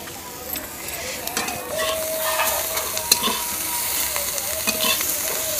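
Fish fries in a pan with a little oil outdoors, giving a steady close hiss and sizzle with faint clinks and scrapes from stirring.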